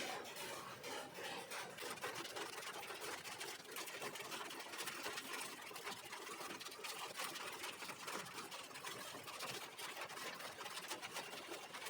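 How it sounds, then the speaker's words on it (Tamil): A repaired aquarium oxygen air pump motor runs alone with a steady, close buzzing drone and fine rattling texture, even and unbroken throughout. "இப்போ நம்ம போட்டுட்டு மோட்டர் ஆன் பண்ணி நம்ம வந்து இப்போ செக் பண்ணிகிட்ருக்கோம்"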